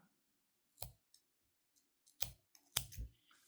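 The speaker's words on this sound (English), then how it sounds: "And then I'm gonna cut my yarn." Scissors snip through knitting yarn while finishing baby booties, giving a few short, crisp cuts close by, spaced apart against a quiet background.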